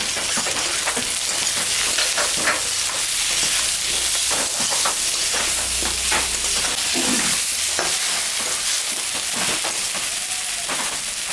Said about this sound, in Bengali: পেঁয়াজ আলু ভাজা ভাজা হয়ে গেছে